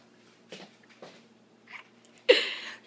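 A sad pet cat gives a few soft, short meows close by, with a sharper, louder cry near the end, against a quiet room hum.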